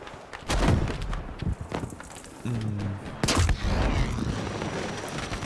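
Selbstlader 1916 semi-automatic rifle firing in the Battlefield V video game, sharp gunshots cracking out in a short burst with echoing tails over in-game battle noise.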